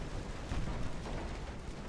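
Torpedo striking a warship in the naval strategy game Ultimate Admiral Dreadnoughts, a dense, rumbling explosion with a steady roar of broadband noise that holds for a couple of seconds without a sharp attack, moderately quiet and heard alone.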